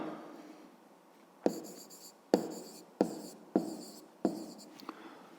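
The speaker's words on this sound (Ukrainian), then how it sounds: "Ну, мабуть, так запишемо відповідь. Пишемо треба." Someone writes the answer to a fifth-grade math exercise by hand, and a pen scratches across paper in close, quiet strokes. Five distinct bursts start with sharp taps, separated by brief pauses.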